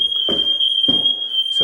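Several household smoke detectors are going off at once, giving a steady, loud high-pitched tone throughout, while a voice speaks in short bursts underneath.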